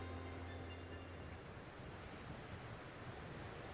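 Steady howling snowstorm wind in the video game Pokemon Legends Arceus, a continuous dense roar at even loudness with no voices.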